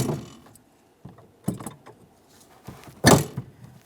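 Rear interior door handle on a 2007-2017 Jeep Patriot being worked loose with pliers: scattered plastic clicks and scrapes, with one louder sharp rattle near the end, close by and without speech.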